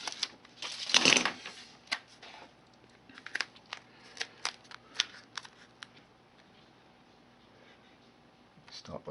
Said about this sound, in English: Let's get the backing off.